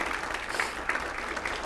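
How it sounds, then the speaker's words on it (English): Applause from a breakfast audience at a District 7 community event, a steady wash of claps at moderate distance with a few sharper bursts, continuing evenly for a short stretch. "So a big round of applause for Lopez Print and Marketing."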